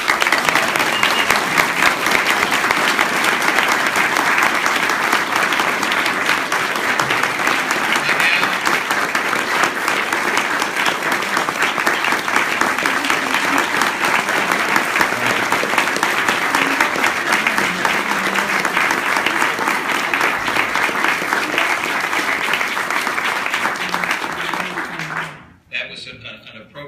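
Sustained applause from an audience at a portrait unveiling in the US Capitol honoring Chairman John Spratt, a steady loud wash of clapping lasting over twenty seconds before tapering off abruptly at the end.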